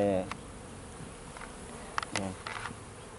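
Bees buzz around a battered beehive in Jamaica, close and fairly loud, with several individual insects droning past in overlapping passes against an outdoor background.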